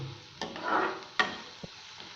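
Maggi noodle ingredients being stirred in a pan, a soft swish with a faint sizzle and a couple of sharp utensil knocks against the metal, close and quiet.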